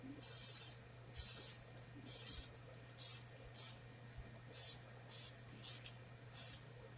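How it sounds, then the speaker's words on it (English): Cooking oil spray hisses out in about ten short bursts onto pork steaks, each under a second, in a quick, uneven rhythm close to the listener. "A little bit of cooking oil. You can use regular cooking oil, you can use spray."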